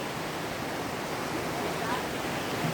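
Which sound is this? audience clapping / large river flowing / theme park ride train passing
large river flowing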